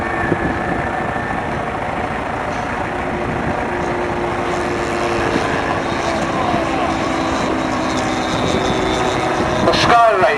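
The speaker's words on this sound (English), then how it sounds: "And a Supermarine Spitfire in the desert colourings, 1942-43." A Supermarine Spitfire in 1942-43 desert colourings flies past at an airshow, its propeller engine droning steadily and fairly loud throughout, with a brief rise in the last moments.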